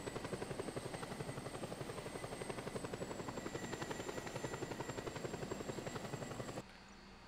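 A helicopter's rotor in Just Cause 2 thumps rapidly and steadily with a high whine above it, loud and continuous, then cuts off abruptly near the end.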